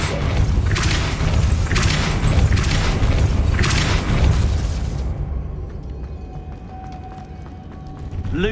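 A Depulso spell from Hogwarts Legacy lets out a loud, sustained rushing blast with repeated booming bursts for about five seconds, then drops away into quieter ambience.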